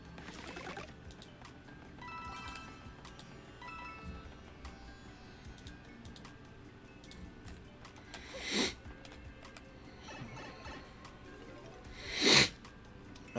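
Two sharp, explosive sneezes burst out against quiet background noise, the second louder than the first, with no speech.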